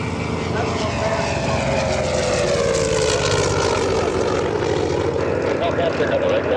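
A Grumman Hellcat warbird flies past at the AirVenture airshow, its propeller engine a loud, steady droning roar that shifts slightly in pitch as it passes, with people talking over it.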